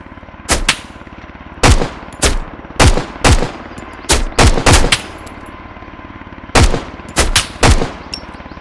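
Bursts of rapid automatic gunfire in the video game Road to Vostok, loud and close, firing in short volleys separated by brief pauses over a steady low hum.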